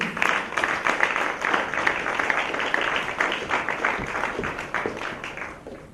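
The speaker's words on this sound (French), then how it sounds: "Merci, s'il vous plaît, applaudissez." An audience at a live music show breaks into applause, a dense crowd of clapping hands that stays fairly loud and steady before thinning toward the end.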